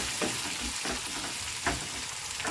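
Peanuts and cashews fry in a pan with oil while making a Bisi Bele Bath, giving a steady close sizzle broken by a few scraping stirs, with no talking.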